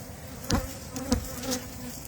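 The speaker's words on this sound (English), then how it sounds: "they look like there's a few bees out there cleaning it up and looking at the entrance" Honey bees buzz near the entrance of a backyard hive, a soft, steady hum with a few brief louder passes as individual bees fly close by.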